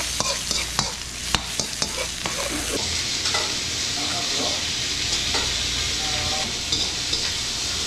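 Onion and garlic sauté in a pan as home cooking gets underway, giving a continuous close sizzle and frying hiss punctuated by the clicks and scrapes of stirring, with faint whispering now and then.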